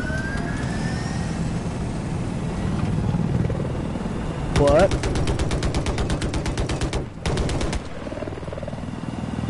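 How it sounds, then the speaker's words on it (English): An attack helicopter in a video game whirs steadily with rotor thump, punctuated by rapid bursts of machine-gun fire in the middle; a voice briefly speaks. "I got an attack helicopter."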